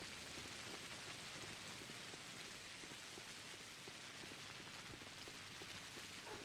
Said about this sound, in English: the rain actually is kind of soothing